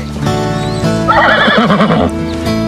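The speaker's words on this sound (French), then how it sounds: "On ramène les chevaux." Horses neigh and whinny in a long, warbling call that rises and falls, heard close and loud over a steady background with a faint clip-clop of hooves and no talking.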